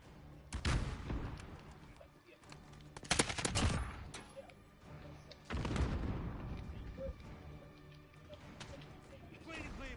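Rapid gunfire bursts and heavy booms in a combat video game, several loud volleys at the start and middle with quieter firing between, under spoken voices.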